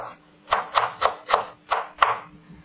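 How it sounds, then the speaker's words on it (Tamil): A knife chops an onion finely on a board in a home kitchen: six crisp, evenly spaced thuds about a quarter second apart, close and clear against a quiet background. "வெங்காயத்தை நல்லா பொடிசு பொடிசாக கட் பண்ணி எடுத்துக்கலாம்"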